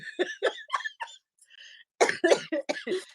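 Several sharp, harsh coughs in quick bursts, close by, with a brief quiet gap before another cluster of coughing.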